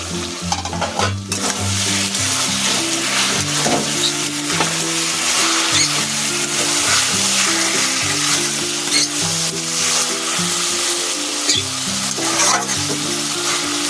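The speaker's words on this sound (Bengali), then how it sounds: "কেটে রাখা ক্যাপসিকামগুলো এখন আমি দিয়ে দেব" Chopped capsicum stir-fried with small pieces of chicken in a pan, loud continuous frying sizzle with rhythmic stirring and scraping throughout, close and busy.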